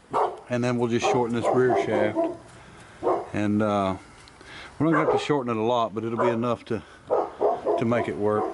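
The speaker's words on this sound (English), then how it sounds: "Excuse the dogs there." Dogs bark in the background of a workshop during a 2003 Chevrolet C4500 rollback truck build while someone talks steadily over them about shortening the rear driveshaft; the barks are partly buried under his voice.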